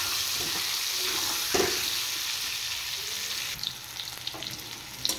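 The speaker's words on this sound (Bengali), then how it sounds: "এবার আলুগুলো আমি লাল করে ফ্রাই করে নেব।" Potato pieces seasoned with turmeric and salt frying in hot oil, a loud continuous sizzle with a couple of brief stirring knocks and spatters toward the end, nobody speaking.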